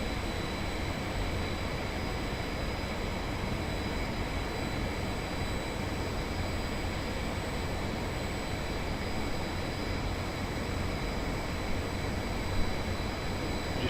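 A Boeing 737 in Swiss livery flies in a flight simulator game, its engines a loud, unbroken broadband roar that holds level throughout with no speech.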